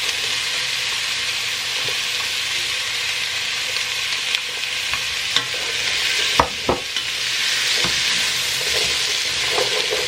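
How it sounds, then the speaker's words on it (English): Onion sizzles steadily in olive oil in a hot pan, a continuous close frying hiss broken by a few sharp pops and clicks of stirring. "Then I'm adding my onion."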